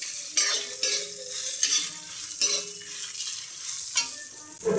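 Chillies, chana dal, pepper and cumin dry roasting in a pan, with repeated scraping and stirring strokes and a light sizzle, close and steady with no talk.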